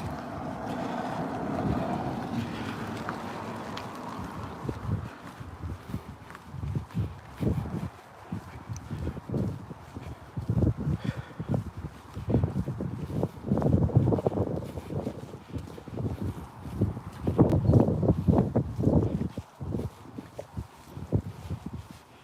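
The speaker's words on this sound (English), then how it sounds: "Y'all may hear the wind blowing." Wind blowing outdoors during a fitness walk, gusty low rumbling that buffets the microphone in uneven surges for the whole stretch, with no talking.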